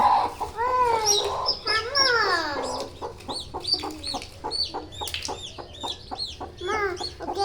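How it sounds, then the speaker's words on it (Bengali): A hen with six chicks, soft clucking from the hen mixed with rapid, high peeping from the chicks close by, continuous and busy throughout. "এই যে মুরগি, কিউট কিউট বাবু হয়েছে মুরগির"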